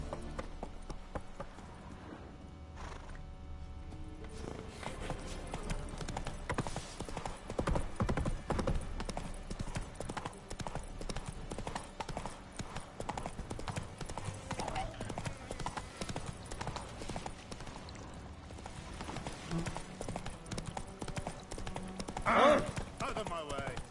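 Horse Roach's hooves clip-clopping in The Witcher video game, a steady trotting rhythm under game music and ambience, with voices speaking briefly.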